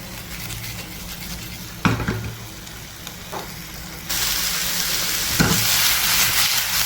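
Food fries in oil in a pan with a constant sizzling hiss, interrupted by a couple of utensil knocks and scrapes, and the sizzle grows louder partway through.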